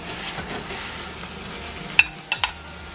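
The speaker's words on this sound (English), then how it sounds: "So I'm just gonna put some chopped up kimchi in here." Chopped kimchi stirred with rice in a hot pan gives a quiet, even sizzle, broken near the end by a few sharp clinks of a utensil against the pan.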